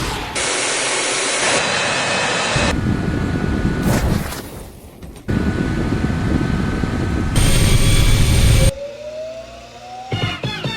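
A jet engine roars in a video game: loud, dense, steady rushing noise in several abrupt segments that cut in and out, with a rising whine near the end.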